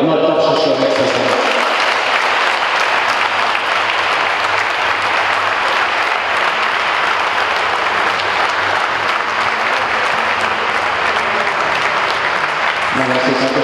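Sustained audience applause fills a handball match hall, loud and steady for several seconds with crowd texture and no gaps, fading slightly at the very end.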